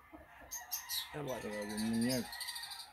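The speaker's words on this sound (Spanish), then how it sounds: "Miren, este hermoso gallo indio." A gallo indio rooster at an auction gives one drawn-out crow lasting about a second, close and clear, with brief clucks and faint background noise around it.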